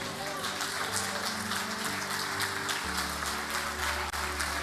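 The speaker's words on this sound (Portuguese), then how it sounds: "Você pode ficar de pé aplaudindo a Jesus nessa noite." Congregation applauding at an evangelical church service, a dense steady wash of clapping that holds for several seconds over sustained worship music.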